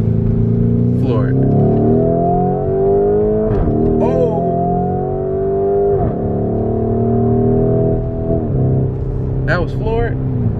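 A widebody Dodge Scat Pack pulls hard at full throttle with a steady, loud engine roar that rises gradually in pitch throughout, while people talk over it inside the cabin.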